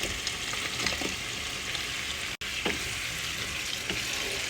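Chicken sizzles and fries in oily gravy with added milk, a steady close crackle running throughout with a brief cut near the middle and occasional stirring scrapes.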